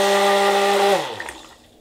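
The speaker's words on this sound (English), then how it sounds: "So I am going to now mix with my blender just a little bit." A handheld stick blender whirs steadily through cold process soap batter, a loud, even motor whine that cuts off about halfway and winds down to near silence.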